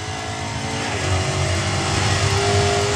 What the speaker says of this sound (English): The sound of the Veyron is pretty good.